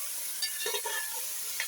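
Chicken fries in a pan with garlic, ginger and chili, making a soft steady sizzle and hiss with a few brief scraping stirs of a utensil.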